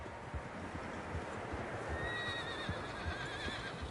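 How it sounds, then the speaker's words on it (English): Several horses whinny over a steady rumble of hooves in the video game Red Dead Redemption II, the neighs rising and drawn out against a constant outdoor background. "Horses, quite a few of them."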